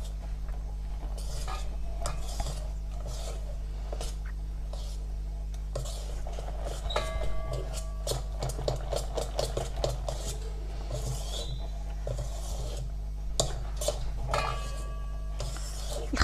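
Chocolate cake batter being stirred in a bowl, with repeated scraping and clinking of the utensil against the bowl in an uneven rhythm over a steady low hum, close and moderately loud.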